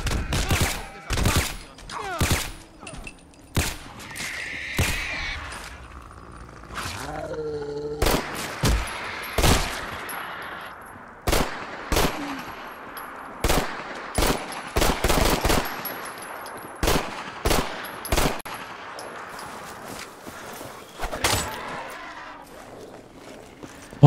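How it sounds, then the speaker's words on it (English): Gunfire from a weapon in a modded Fallout game, heard as repeated sharp shots in scattered single bursts and short clusters, loud and close, with movement noise between some of the shots. "whatever this weapon was here that he had does not have the right audio sound to it"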